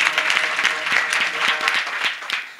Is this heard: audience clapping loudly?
yes